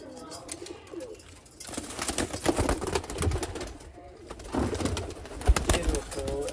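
Sialkoti pigeons, a pair of male and female birds, cooing repeatedly at close range in soft rolling bursts, with rustling and handling noises around them and someone talking intermittently.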